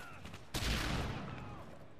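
Gunfire in a first-person shooter match, a sudden loud burst of shots that then rumbles and decays over about a second and a half.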